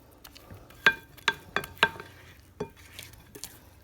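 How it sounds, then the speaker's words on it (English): A spatula scrapes banana bread batter down the sides of a mixing bowl, giving a handful of short, close strokes and soft knocks against the bowl at an irregular pace, with quiet gaps between them. "we're going to get our spatula, go down all those sides"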